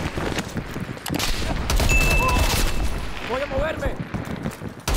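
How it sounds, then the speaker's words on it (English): Sustained gunfire and explosions in a Call of Duty Black Ops Cold War battle, a dense continuous barrage with booms, while someone speaks briefly over it. "They're shooting at us!"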